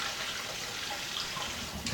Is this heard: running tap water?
yes